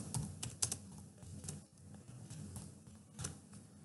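Values being typed into an Excel spreadsheet on a computer keyboard, a quiet, close run of irregular key clicks with a few louder taps, as on the Enter key, and no voices.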